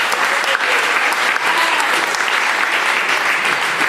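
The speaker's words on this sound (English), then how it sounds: "applause, of course, for that." Steady applause from a magic show audience, dense and continuous for about four seconds with no clear voices over it.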